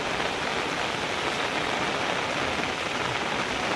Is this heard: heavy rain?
yes